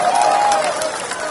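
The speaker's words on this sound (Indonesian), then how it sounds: "Tepuk tangan buat semuanya." A crowd at an Anies campaign rally in Padang breaks into applause, a dense, loud burst of clapping and noise with a sustained whistling tone running through it.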